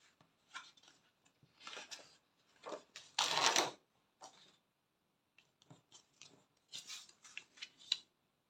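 Scissors snip through paper in short bursts of quick cuts, trimming out a small paper bunny die-cut for an Easter card, crisp and close with gaps of silence between cutting runs and no talking.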